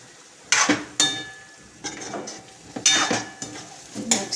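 A spoon stirs a tuvar totha pigeon pea mixture in a pan, several distinct scraping and clinking strokes at an uneven pace, close and clear with no talking.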